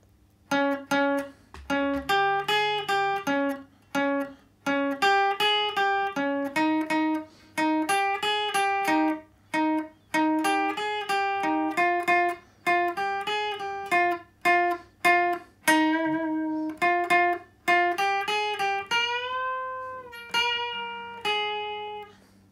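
A guitar riff from a song is played slowly with plucked, separate notes in a steady run, ending on a sustained note that bends in pitch.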